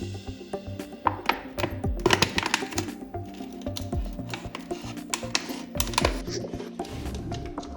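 An empty plastic soda bottle being cut into a cylinder, giving a series of close, irregular crackling snips and plastic clicks, sharp and uneven, with no talk.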